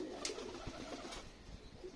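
Pet pigeons coo softly while landing at a home loft, low gentle coos rising and falling over about two seconds, fairly quiet and close, with no voices.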